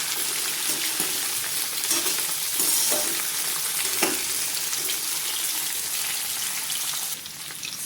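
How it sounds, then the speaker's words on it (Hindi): Mixed vegetables fry in hot oil in a kadai, giving a loud, steady sizzle and crackle with occasional stirring scrapes, close by and continuous throughout. "इनको 3 से 4 मिनट हम फ्राई कर लेंगे"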